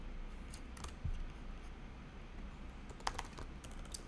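Quiet typing on a computer keyboard, scattered light key clicks over a low steady background hiss, with no talking.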